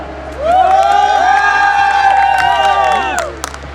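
Wedding guests at a ladies' sangeet night in India clap and cheer loudly together, a sustained crowd roar with whoops and applause swelling in and holding for several seconds before easing off.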